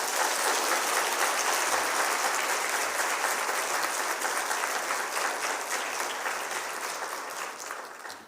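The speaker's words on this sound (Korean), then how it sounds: "박수로 맞이하겠습니다" A church congregation at a Wednesday evening service claps to welcome the pastor to the pulpit; dense, sustained applause fills the room evenly, then begins to fade toward the end, with no talking over it.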